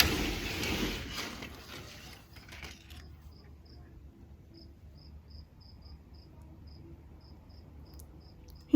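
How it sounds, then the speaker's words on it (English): A lone cricket chirps somewhere out front of a house around five in the morning, its faint, distant chirps repeating in short regular bursts after a brief rustle fades. "I'm hearing the first cricket of the season."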